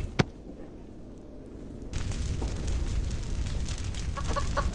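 Chicken clucking in the video game Evil Nun, a sharp click at first, then a steady bed of game noise from about two seconds with a few short clucks near the end.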